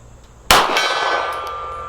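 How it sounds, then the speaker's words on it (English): A single bullet strikes a steel gong target at a pistol range, a sharp loud clang that rings on with a sustained metallic tone as it slowly fades. "we got to start at the gong there on the left"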